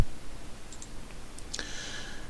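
A computer mouse clicks while loading a file in Pivot animation software: a few sparse, light clicks spread across a quiet background, with one slightly sharper click near the end.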